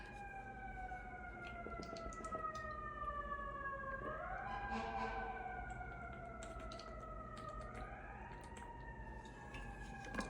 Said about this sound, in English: Let me get a sip of water as these sirens pass by.